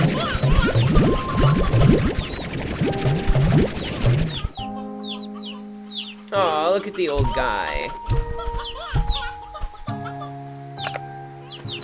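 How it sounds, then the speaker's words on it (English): Roosters cluck and crow around a ranch in the Slime Rancher 2 video game, repeated bird calls mixed with game tones and chimes while a person talks over them. "We don't need all these roosters"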